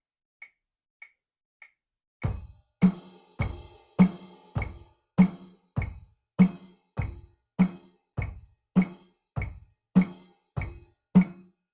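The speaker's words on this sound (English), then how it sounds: "Last week I showed you guys the basic rock beat." Three light stick clicks count in, then a basic rock drum beat follows in steady quarter notes, about eighteen even, punchy hits mixing kick and snare, played close and alone.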